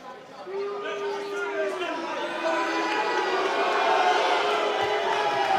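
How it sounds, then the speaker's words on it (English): A boxing crowd at a bout between Ashley Marron and Callum Pearson lets out a sustained, swelling murmur of disapproval, booing rising and building in volume through the clip, with crowd chatter underneath and no clear voice in front. "A bit booing going on"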